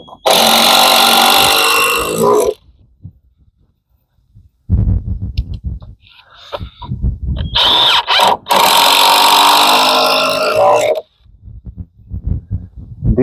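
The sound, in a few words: power drill driving screws into wood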